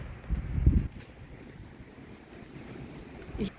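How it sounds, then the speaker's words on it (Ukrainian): Strong wind gusts buffeting a balcony in cold spring weather, loud blustery rushes against the microphone that peak early, settle into a softer roar, then surge again near the end. "можливо чути пориви вітру. Так, вітер сильний."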